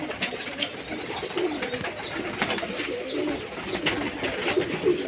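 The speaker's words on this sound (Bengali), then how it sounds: "এবার পায়রাগুলোকে ছেড়ে দেবো কেমন চান করবে দেখুন" Pet pigeons coo repeatedly while bathing in water on a hot summer day. Several low, throaty calls overlap close by against a soft background, with no talking.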